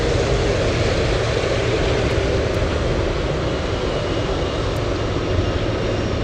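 At Anchorage airport on a windy day, an aircraft takes off from runway 15 with a loud, continuous broadband engine roar that holds steady for the whole stretch.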